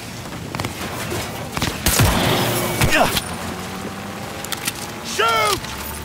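Gunfire in Cyberpunk 2077 crackles in scattered short bursts around a mid-clip exchange, mixed with game effects and a rising whine near the end, with voices speaking at times.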